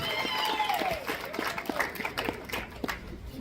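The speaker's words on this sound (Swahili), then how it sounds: "Makofi mazuri." Wedding guests at a Nairobi ceremony applaud after the couple's vows, a steady patter of clapping from a crowd with some voices and tonal sounds mixed in.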